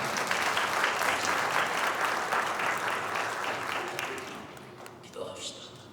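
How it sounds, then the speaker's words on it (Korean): An audience at a university mission festival applauds. Thick, loud, continuous clapping fills most of the clip and fades toward the end, and a few scattered claps and a brief voice remain at the close. "다시 한번 박수 부탁드립니다."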